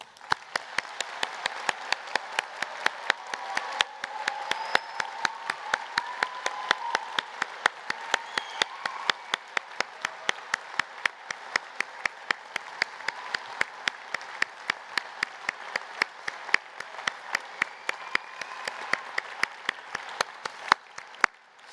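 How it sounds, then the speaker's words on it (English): Steady applause from a graduation ceremony crowd for the School of Education continues at moderate distance, with sharp individual claps standing out rhythmically above the wash of hands. "A big round of applause."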